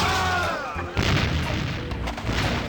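Cannon fire in The Curse of Monkey Island, with heavy booming shots, one near the one-second mark followed by more rumbling blasts, loud and close, while a voice talks early on.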